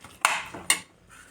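Paneer bhurji being stirred in a pan, with two quick clinks of a utensil against metal and then a faint scrape.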